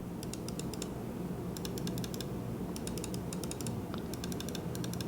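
Budget gaming mouse buttons clicking in short bursts of sharp, crisp clicks, grouped in quick rapid runs with brief pauses, close and fairly quiet over a steady low background hum.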